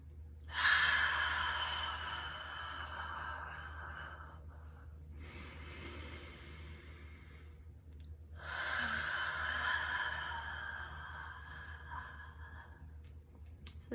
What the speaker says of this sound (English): Take a couple deep breaths right here.